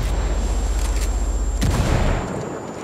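Gunfire in the video game Ghost War, a sustained rapid burst of shots for about a second and a half ending in a heavier boom, loud and dense with no voices over it.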